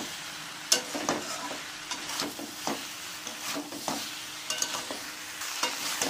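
Spice masala for a cauliflower roast being stirred and fried in a pan after a splash of water, with a steady sizzle broken by repeated scraping strokes of a spoon, close and alone without talk.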